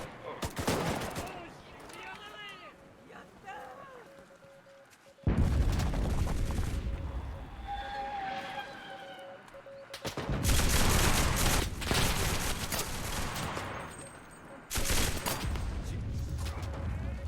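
Gunfire from the World War II shooter Enlisted comes in dense volleys: rapid machine-gun bursts, rifle cracks and booms in loud stretches broken by quieter gaps, with game voices and a player talking in between.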